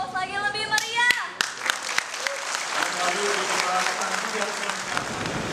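Audience applause at a candidates' debate, a burst of clapping that swells after a voice at the start, with scattered sharp claps ringing over a steady patter, fairly close.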